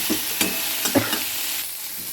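Onion and raw turmeric frying together in a pan for masoor dal chorchori, with a few sharp stirring scrapes over a continuous close sizzle and no talking.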